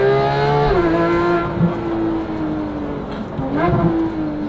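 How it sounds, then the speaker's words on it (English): A 2015 Porsche GT3 engine revving loudly up close, its pitch climbing and then dropping back, with a second sharp rev near the end. "I cannot get over how good this car sounds."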